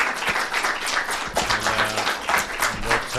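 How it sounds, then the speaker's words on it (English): An audience gives a speaker a dense, steady round of clapping that lasts the whole moment, fairly loud and close, with some low voices mixed in. "Let's give him a big round of applause."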